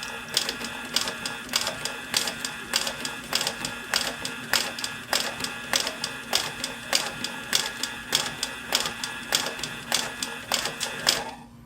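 A Pfaff 335 H3 industrial sewing machine with a vibrating binder attachment runs at a steady pace, producing quick, evenly spaced mechanical clacks over a constant motor whir, close and clear.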